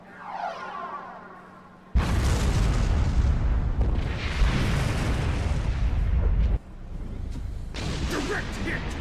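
Starship weapons fire and explosions thunder in the Star Trek Online space combat game: heavy booming blasts roll on for several seconds, break off briefly, then surge again, with voices shouting now and then.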